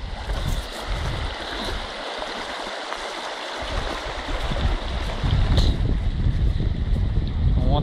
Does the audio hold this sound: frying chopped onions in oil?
no